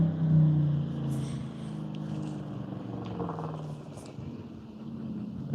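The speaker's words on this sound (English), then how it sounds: "And that was a loud truck." A loud truck rumbles past on a road near train tracks, its low engine drone steady and close for several seconds before fading slightly.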